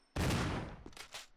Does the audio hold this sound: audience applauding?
no